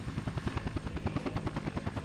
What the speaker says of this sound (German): Danke, lieber Heli. Schön, dass du für uns hier in den Einsatz geflogen bist.